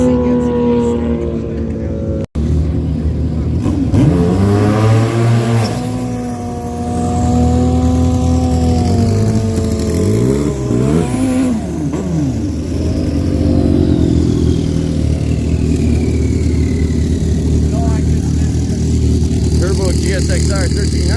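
A Suzuki GSX-R 1300 motorcycle drag-racing a turbocharged sled at St. Thomas Dragway's 60th anniversary event: a loud, sustained engine roar that rises and falls in pitch with revving, briefly cutting out early on.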